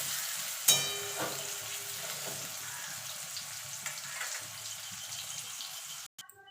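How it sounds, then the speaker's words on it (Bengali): Chopped onion fries in oil for a fish kalia, a soft continuous sizzle with a sharp clink near the start and a few faint scrapes. It stays steady and moderately quiet, then cuts off abruptly near the end. "এবার পেঁয়াজটাকে গোল্ডেন কালার করে ভেজে নেব"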